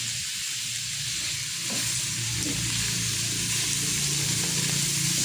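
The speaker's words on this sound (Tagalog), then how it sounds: "ipa-brown muna natin ng konti bago natin ilagay ang bawang at sibuyas" Pork browning in a pan for adobong sitaw gives off a steady, dense sizzle and hiss from frying, with faint scrapes of stirring now and then and no voices.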